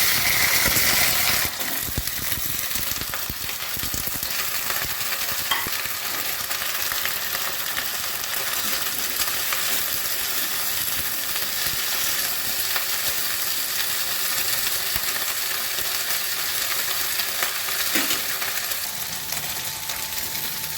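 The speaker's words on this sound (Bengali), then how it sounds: "প্রথমেই আমি ভেন্ডিগুলো একটু ভেজে নেব।" Okra frying in mustard oil in a home kitchen, a steady loud sizzle that holds for the whole stretch, broken by occasional faint clinks and stirring scrapes, with no talking.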